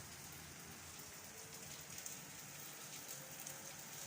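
Gentle rain falls continuously, an even soft hiss with occasional faint drips, no voices.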